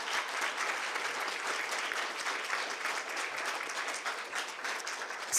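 Conference attendees at a symposium panel on talking to policymakers give the panelists steady, dense applause at moderate volume, continuing evenly throughout with no speech over it.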